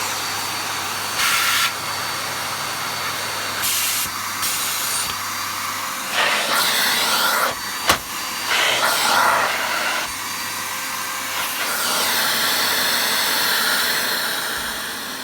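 A Miele ART vacuum cleaner runs with strong suction, a loud continuous airy roar whose pitch and intensity shift as the airflow changes, with a brief knock partway through.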